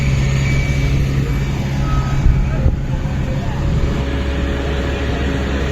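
Trucks and other vehicles at a road tarring site on the NH66 near Shiriya bridge, a low steady engine rumble with a repeating reversing beep and some talk over it.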